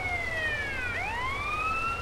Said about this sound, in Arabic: هتلاقي المطافي جايه تطفي دلوقتي